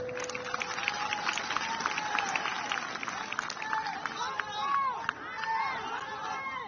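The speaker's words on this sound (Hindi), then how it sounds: "हमारी बात सच हो तो ताली बजाइएगा" Crowd at an outdoor political rally in Tripura, a public meeting addressed by the Union defence minister, claps and cheers in a dense, steady wash of applause mixed with voices and chatter throughout.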